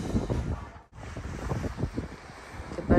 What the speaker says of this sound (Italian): Che bello il rumore del mare.